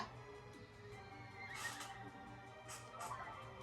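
A horse neighs in the Miitopia video game, a whinnying call rising twice over a steady background of game music, fairly faint and not masked by talk.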